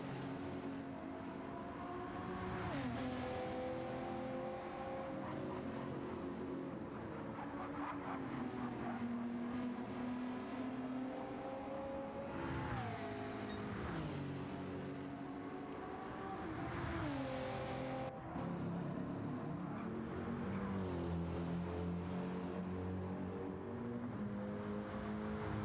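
Gran Turismo GR3 race cars lapping Watkins Glen produce loud, continuous engine roar, rising and falling through revs and gear shifts as several cars pass close by, with no voices heard.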